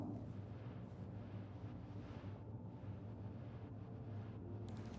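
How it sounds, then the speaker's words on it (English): Ship weapons fire in Star Citizen comes as a dense, continuous low rumble of booming impacts and blasts, loud and sustained throughout, with no voices. "Okay, he is shooting us."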